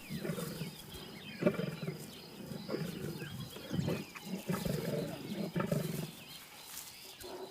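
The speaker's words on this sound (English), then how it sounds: "A lion is feeding nearby." A lion feeding in Kruger gives low, rumbling roars and growls that rise and fall over a steady outdoor background. The sound is faint and distant.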